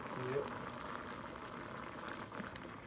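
A pot of black beans sits at a rolling boil, giving a steady bubbling hiss that runs faint and continuous throughout, without any voices present.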